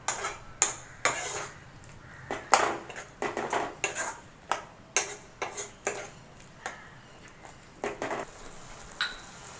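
Spices, including turmeric powder, are mixed into an okra tamarind curry base, heard as a spoon knocking and scraping against a metal pot in a run of sharp, uneven clinks, close by and with no talking.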